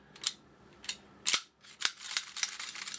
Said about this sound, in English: whenever I pull the slide,